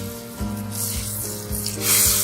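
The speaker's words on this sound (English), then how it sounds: "Keep the flame on low and just melt the butter." Butter melting over a low flame in a small pan for dal makhani, giving a steady soft sizzle with light crackle and a brighter hiss swelling near the end, close and continuous with no voices.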